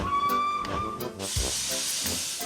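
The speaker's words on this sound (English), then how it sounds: "He ran onto the platform, blew his whistle, and jumped into his van. Edward puffed off." A steam locomotive moves off. A brief whistle tone at the start gives way to a loud, steady rush of hissing steam with soft chuffs underneath.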